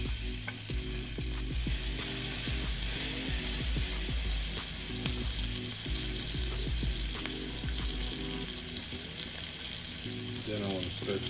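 Red onions sizzle in butter in a pan, with a close, steady frying hiss and occasional stirring scrapes. There is a faint hint of running water near the end, and no one speaks.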